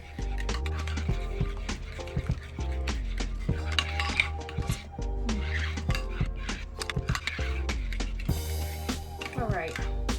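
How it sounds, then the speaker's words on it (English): A spoon stirring a meatloaf glaze of brown sugar in a bowl, with rapid, close clinks and scrapes of metal on the dish, continuous and busy throughout, a brief louder rattle near the end. "We have to stir it well so the brown sugar can dissolve."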